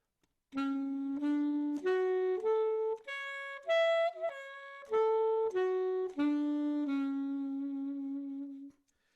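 A clean, single-note melodic line steps up through a major arpeggio and back down again, about a dozen sustained notes played alone.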